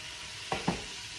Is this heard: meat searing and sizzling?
yes